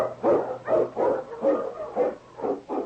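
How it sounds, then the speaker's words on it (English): Barking of King, an Eskimo lead dog, in an old-time radio drama set in the Yukon: a steady run of about seven rhythmic barks, close and fairly loud, over a faint low hum, with no talk. "The Wonder Dog King, swiftest and strongest of Eskimo lead dogs"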